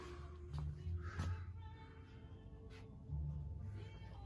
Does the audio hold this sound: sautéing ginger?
no